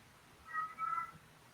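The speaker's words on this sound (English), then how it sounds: "your cat just agreed" A cat gives two short, clear meows close by, a brief pause between them, over a quiet indoor background.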